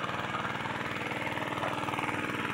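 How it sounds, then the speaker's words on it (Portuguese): A gasoline engine driving a water pump runs steadily at idle, with an even mid-pitched drone and a close, constant chug throughout, no talking over it. "Então tá ali ligado o motor, ó."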